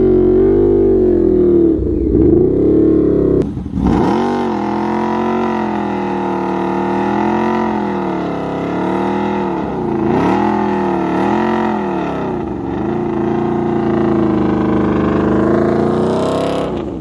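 Yamaha V-Max motorcycle accelerating hard on a speed run, its engine note climbing and dipping through repeated gear changes, loud and close, a continuous roaring rev after a brief pause near the start.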